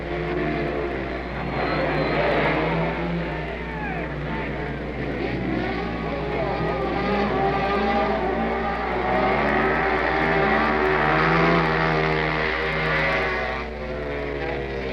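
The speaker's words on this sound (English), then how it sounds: "His bike is running perfectly." Speedway motorcycle engines from a 1971 race roar steadily with rising and falling revs, loud and continuous throughout, under a commentator's voice.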